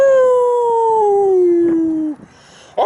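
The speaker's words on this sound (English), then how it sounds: "There's my dog." Chico, a dog, lets out a single long, loud howl close by that slowly slides downward in pitch, then breaks off into brief quiet.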